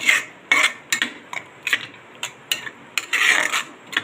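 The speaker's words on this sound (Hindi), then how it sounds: "इसको अच्छे से अब हम भून लेंगे" Red chili and garlic chutney is roasted and stirred in a pan, with intermittent scraping strokes of the spoon against the metal, close and fairly quiet.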